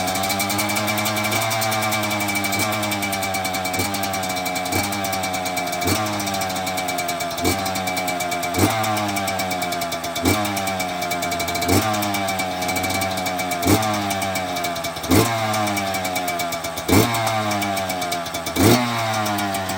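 A small single-cylinder dirt bike engine with a full FMF Turbocore exhaust runs steadily after a cold start, with a rhythmic, loping idle, blipped up in short revs every second or two, loud and close.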